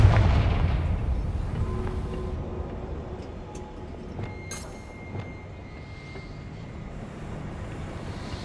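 Confringo fire spell in Hogwarts Legacy, a loud booming explosion at the start that rolls off into a long fading rumble, with faint crackles and scattered magical chimes afterward.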